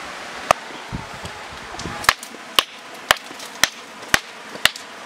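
Repeated sharp hammer blows strike a wall in a video game, about seven crisp, distinct knocks in an uneven rhythm over quiet background noise.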